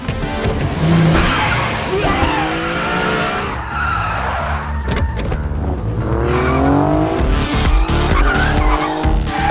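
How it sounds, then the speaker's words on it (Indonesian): A film car chase with police cars: loud, continuous tire squeals and skidding mix with revving engines, while a voice talks over the action throughout. "tiba-tiba mereka dikejar oleh dua mobil, yang ternyata itu adalah mobil polisi"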